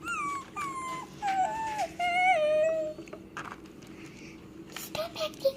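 A voice imitates a dog, giving a few drawn-out whining, howl-like wails with gliding pitch, followed by quieter breathy sounds and short yelps near the end, all close and fairly loud.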